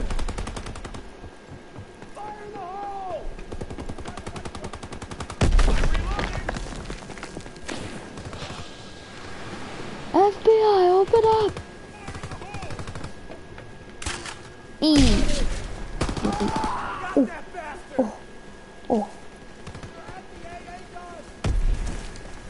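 Gunshots ring out in a Call of Duty match in several loud bursts spread across the scene, with someone talking in between.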